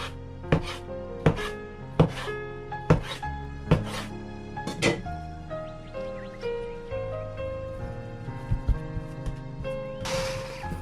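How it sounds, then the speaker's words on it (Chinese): A knife chops soft milk bread dough into small portions on a board, about seven firm evenly spaced thuds in a row, then lighter handling sounds and a brief rustle at the end, close up with no voices. "之后用刀分割成小剂子"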